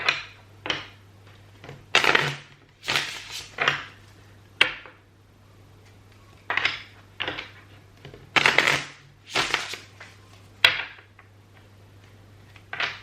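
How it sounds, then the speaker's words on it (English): A deck of tarot cards is shuffled in bursts of riffling and slapping, a dozen or so short, crisp flurries separated by brief pauses over a steady low hum, with no talking. "So I just want to quickly shuffle this deck"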